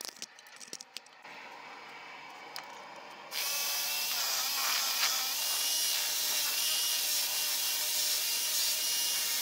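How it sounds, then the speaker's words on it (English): A handsaw cuts through a carved wooden walking stick handle, starting with a few light taps and scrapes before a steady, loud rasping saw stroke runs continuously for the last six seconds, close up with no talking. "I'm just going to cut it right here and then see how it looks"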